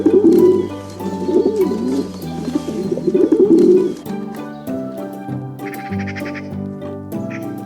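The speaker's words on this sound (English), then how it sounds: "Pigeon," A pigeon coos in repeated low, throaty rolling phrases, close and fairly loud, with later softer calls and a brief higher chirp from another bird.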